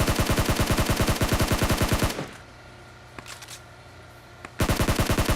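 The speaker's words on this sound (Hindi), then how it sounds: "पीछे की तरफ यार फायरिंग चल रही है काफी देर से" Rapid automatic gunfire from PUBG Mobile on Erangel rattles loudly in steady bursts for about two seconds, stops into a quiet stretch with a few faint distant shots, then resumes at full volume.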